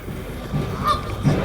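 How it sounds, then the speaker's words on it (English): Geese honk in the background during an outdoor city media briefing in Wichita, giving a few short, fairly faint calls over a low ambient rumble, with no speech in the moment. "it must be goose mating season, so sorry about the background noise"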